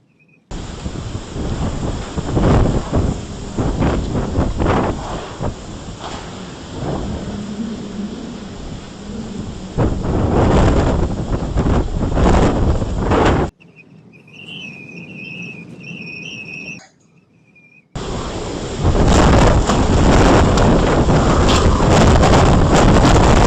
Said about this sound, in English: You can see the wind better with the rain.